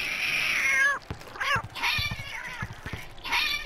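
A cat meows in a game, in long, strained, rising calls at the start and end, with busy clattering and other sounds in between, fairly loud and close.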